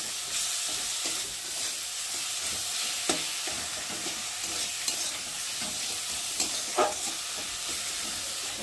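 Spice masala of chilli powder and salt sautés in a pan for a Bengali rohu fish tel jhal: a constant close sizzle broken by the sharp clicks and scrapes of a spoon stirring.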